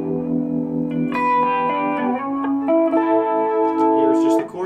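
Clean electric guitar notes and chords through a chorus pedal and tube amp shimmer with a wavering chorus effect, played slowly and ringing out clearly.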